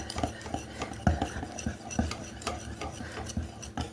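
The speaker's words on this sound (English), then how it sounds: "I'm used to just mixing it by hand with a spatula" Cinnamon roll dough being mixed by hand with a spatula, with butter and egg being worked in: irregular soft scraping and light clicks of the utensil against a bowl, steady and close, with no talking.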